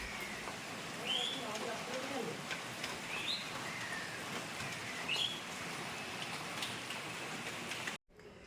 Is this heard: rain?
yes